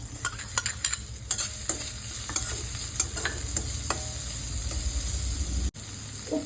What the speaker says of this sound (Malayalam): ചെറുതായിട്ട് അരിഞ്ഞു വച്ചിരിക്കുന്ന സവാള ഇതിലേക്ക് ചേർത്ത് കൊടുക്കാം